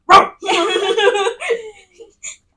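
A sharp bark-like yelp up close, followed by excited whining, yapping vocal sounds and a couple of short squeaks trailing off.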